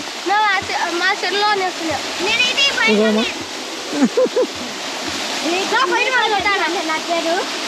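Swimmers splash in the water of a village well, with steady rushing and splattering throughout, mixed with loud excited voices of people and children calling and talking over it.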